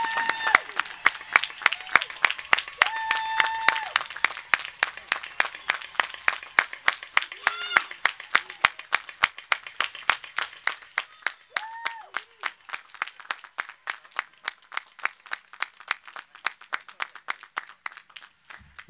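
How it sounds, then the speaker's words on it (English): A graduation commencement crowd applauds steadily, with dense clapping at first that thins into a few scattered, distinct claps toward the end; a voice briefly cuts in early on. "How about a big round of applause for these graduates?"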